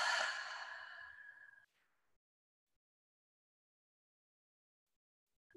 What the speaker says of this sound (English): In as the breath enters your body. Out as you release the exhale.